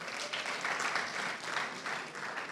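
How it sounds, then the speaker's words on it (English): A conference audience gives a round of applause, crisp many-handed clapping that swells and dips in waves. It sounds fairly close and fills the room steadily, with no talk over it. "Please, a round of applause for them."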